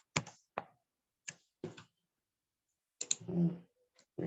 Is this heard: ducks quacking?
no